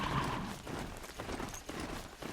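Hoofbeats of a robot horse strider mount in Horizon Zero Dawn, a steady rapid clip-clop of galloping feet, fairly close and continuous over a faint background.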